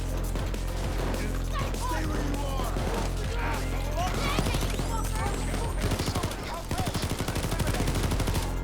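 Queen's Wrath L85 assault rifle fire in Payday 2 on Death Wish difficulty, with rapid bursts of close, sharp shots crackling over steady game background noise while someone talks.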